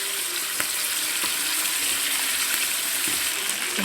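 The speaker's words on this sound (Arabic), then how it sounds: "الفراخ خدت عندي صدمة من جنبين، هنشيلها من الطاسة" Chicken thighs seasoned with black pepper and paprika sear in a frying pan, giving a steady, close sizzle with faint clinks throughout and no talking.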